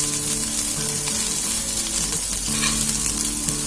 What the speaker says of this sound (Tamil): நம்ம வெண்டைக்காய் போதுமான அளவு நல்லா வதங்கிருச்சு.